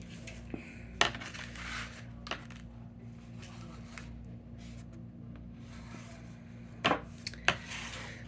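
A Spellbinders large die run through a cutting machine over two layers of cardstock: a steady low mechanical hum with a few sharp clacks and crunches, close and fairly quiet.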